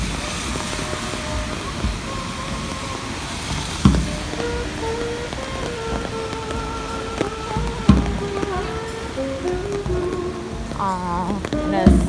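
Rain falls on a New Orleans street, making a constant patter across the whole stretch with a few louder knocks and thumps. People talk quietly underneath, and a brief rising tone is heard near the end.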